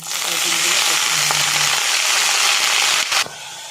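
Fenugreek greens being stirred and sautéed in a pan with fried garlic, a steady broadband sizzle running throughout with a brief scrape near the end.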